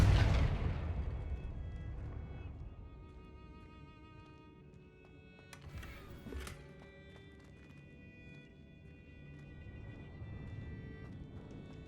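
The Confringo fire spell goes off in Hogwarts Legacy with a loud, deep boom at the start that fades into a long low rumble, followed by a shorter burst midway.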